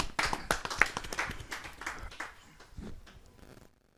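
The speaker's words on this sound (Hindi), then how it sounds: "जरा जोरदार ताली के साथ हम उनका स्वागत करें।" Audience at a Hindi poetry gathering claps to welcome a poet, a burst of sharp, close hand claps that starts strong and thins out, fading to quiet by the end.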